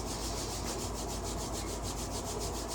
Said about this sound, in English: rubbing those hands together. Creating a little heat, creating a little energy.